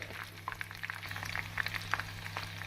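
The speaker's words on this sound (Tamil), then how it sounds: "இப்படி அனைத்தையும் நாம் பொரித்து எடுத்துக்கொள்ளலாம்." Soya chunks (meal maker) deep fry in hot oil for soya 65. A soft, continuous bubbling sizzle is scattered with small sharp pops and crackles, faint and close, with no one speaking.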